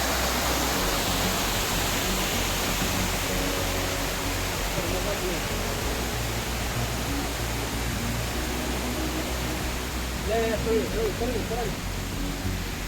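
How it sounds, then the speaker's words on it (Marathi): A small forest waterfall on a monsoon trek to a fort gives off a steady, dense rush of falling water that fills the whole stretch, with a faint voice briefly heard near the end. "तिकडे एक छोटासा धबधबा"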